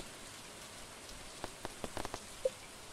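Gentle rain in the video game Stardew Valley, a soft, quiet patter with a short cluster of louder drips or taps near the middle and one small bright plink near the end.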